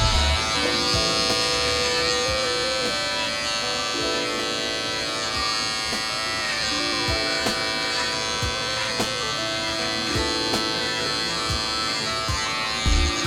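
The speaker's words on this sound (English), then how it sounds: "I like to flip the trimmer down and kind of get that bottom edge line to give that more defined look" A hair trimmer buzzes steadily and close up while it edges a side hair design beside a top knot bun, a constant electric hum with slight shifts in pitch as it moves along the hairline.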